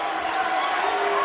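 A sellout crowd at a UNLV vs New Mexico college basketball game roars with a broad, sustained cheer that stays loud and even throughout the brief moment.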